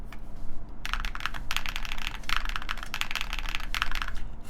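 Close keystrokes on a KindleStar Orion 87 mechanical keyboard with spherical-profile keycaps come in quick bursts of rapid clacking with short pauses between, and no one speaks.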